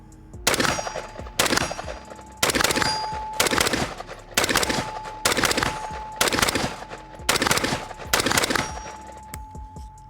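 An AR-15 rifle, the Dissipator, fires repeated loud, close shots in short groups of two or three, with metallic ringing and a steady hum between volleys, no talk heard.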